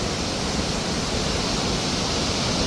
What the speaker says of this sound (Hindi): देखो कैसे चलने लग रहा है पानी